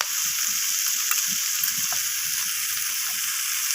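Ginger and garlic paste sautéed in a pan for a rohu fish curry with onion stalks, giving a steady bright sizzle throughout, with a few faint clinks and scrapes of stirring underneath.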